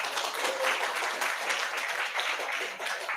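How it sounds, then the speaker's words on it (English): A round of applause fills a conference hall, with dense, steady clapping from an audience lasting a few seconds. "Okay, let them give a round of applause."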